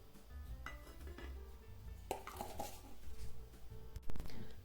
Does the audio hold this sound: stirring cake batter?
yes